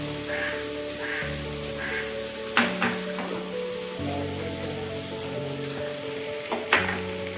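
Chilli and turmeric spice paste fries in a pan for a spicy Ritha fish curry, giving a steady moderate sizzle broken by a few sharp stirring clatters, with no voices.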